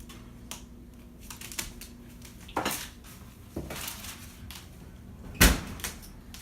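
An oven door opens with a few sharp clanks and knocks, a louder metallic bang near the end, as a batch of caramel corn is taken out in a quiet kitchen.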